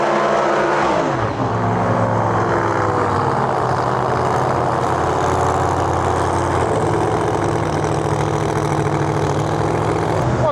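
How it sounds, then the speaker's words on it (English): Pro Mod drag cars idling in the staging beams, a split bumper Camaro and a screw-blown C7 Corvette, their loud lumpy engines rumbling steadily, with a revving sweep near the start before settling into a sustained idle. "next car is up here in the beams. We got a split bumper Camaro in our lane and a C7 screw-blown Corvette far side of the track"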